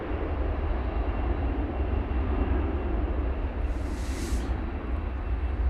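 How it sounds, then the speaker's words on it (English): An Airbus A320neo at DFW Airport produces a steady, broad engine roar that holds throughout, with a faint higher hiss appearing briefly near the end. "Airbus A320neo with Hops the Rabbit"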